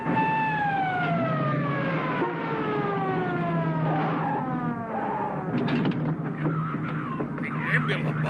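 A loud wailing ambulance siren sweeps downward in pitch over a steady engine rumble, with faint voices and street noise joining near the end.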